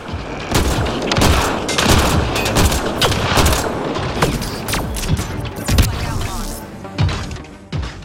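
Near-continuous gunfire in Mass Effect Andromeda during a fight against a Hydra, with rapid loud shots and bursts layered over booming impacts and a dense, noisy battle backdrop throughout.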